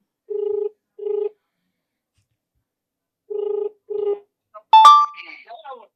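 A telephone rings twice in short paired bursts, then after a pause rings twice more, followed by a brief electronic tone as a live call is answered; the ring is clear and close, with no background noise.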